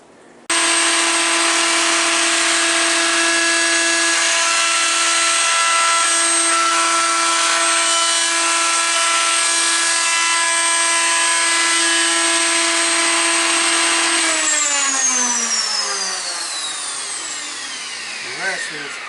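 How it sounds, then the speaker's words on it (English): A router table fitted with a 45-degree chamfer bit runs loud and steady while chamfering wood edges, a sustained high whine that winds down toward the end. "I have installed my 45-degree chamfer bit in my router table and have it adjusted to the size of chamfer that I want."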